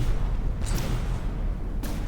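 Missile strikes in the naval combat game From The Depths land as two muffled booms about a second apart over a low rumbling battle background, moderately loud and without talk.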